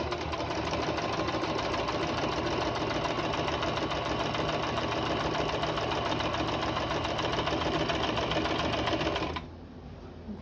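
A sewing machine stitches the seam of a fabric mask in a steady, fast, even whir that runs unbroken for about nine seconds and then stops abruptly, leaving quiet room tone.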